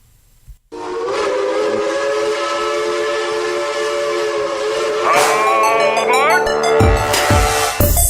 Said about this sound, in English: it sounds like there's a hype train entering the station